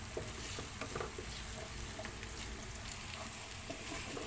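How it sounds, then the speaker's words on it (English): Chopped onions sautéing in a pan for chicken afritada, a steady close sizzle with faint scraping stirs throughout, no voices. "we'll saute until it gets translucent, so like golden brown"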